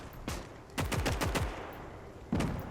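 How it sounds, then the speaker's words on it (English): Mortar fire in the WWII strategy game Gates of Hell: a single sharp report, then a rapid cluster of four or five booming shots, and one more loud blast near the end, all close and punchy with no talk. "Another mortar from the Russian team."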